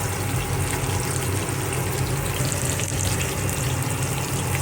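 Tuna fish fries in a generous amount of hot oil, a dense, loud, continuous sizzle and crackle that holds steady throughout with no voices.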